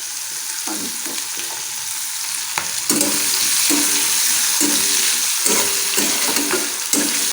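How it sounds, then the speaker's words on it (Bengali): Carrots, egg and potato frying in a pan, a loud steady sizzle broken by repeated scraping strokes of a spatula stirring through the pieces, heard up close without talk. "গাজর, ডিম আর হচ্ছে আলু, এগুলো কতক্ষণ ভাজবো"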